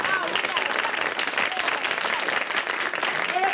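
Steady, dense applause from a television studio audience, a continuous wash of many hands clapping at even loudness throughout, with faint voices threaded underneath.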